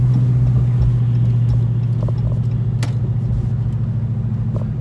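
A Dodge R/T V8 fitted with long tube headers and a 3-inch exhaust idles close by with a loud, deep, lumpy rumble and a steady, aggressive throb, heard alone.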